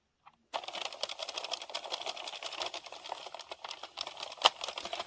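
A hand-cranked 22-pin circular knitting machine being turned with blue yarn, giving a steady, dense run of fast mechanical clicking and whirring that starts after a brief moment of silence and continues evenly throughout.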